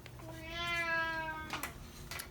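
A single drawn-out cat meow, close and fairly soft, rising then falling, followed by faint rustling.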